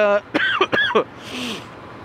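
A few short, sharp coughs in quick succession, close to the microphone, followed by a softer breathy sound.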